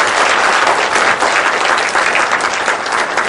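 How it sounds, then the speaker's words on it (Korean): An audience at a public humanities lecture held by the Changwon court breaks into loud, sustained applause after the talk, a dense, even roar of many clapping hands. "박수 부탁드립니다."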